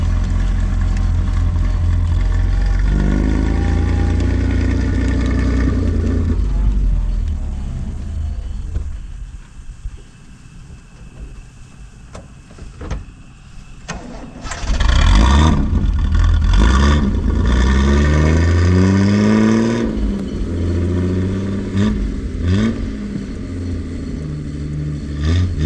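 A Datsun 240Z, left wrecked for 30 years, is driven without a clutch, its engine loud and close as it revs, drops to a quieter lull mid-run, then rises again with sweeping pitch changes through the gear shifts.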